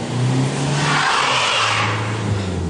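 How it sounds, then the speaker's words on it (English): A front-wheel drive Jaguar X-Type strains to climb an icy slope, its engine droning and revving steadily with a low, wavering tone that holds throughout. "No matter what I tried, the front-wheel drive X-Type wasn't going up"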